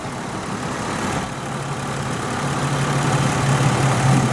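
A Jaguar X-Type car engine idles steadily with a low, even hum that swells slightly toward the end, heard alone with no talk.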